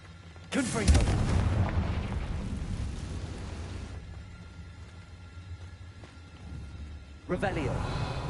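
A fire-blast spell in Hogwarts Legacy on PS5 goes off as a loud, rumbling explosion that swells and then decays for several seconds, with a second blast booming in near the end.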